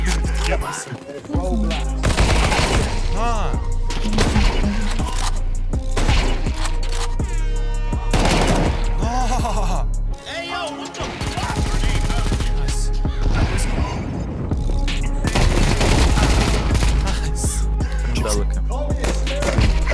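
Rapid bursts of automatic gunfire crackle repeatedly amid game sounds, with people talking over the shooting.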